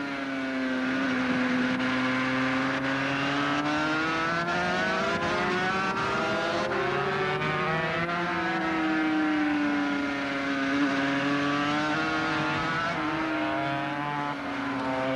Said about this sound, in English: Just have a listen to the engine.